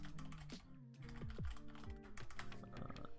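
Password being typed on a computer keyboard during a Windows Server 2019 setup, a quick uneven run of soft key clicks and taps close by, with no talking.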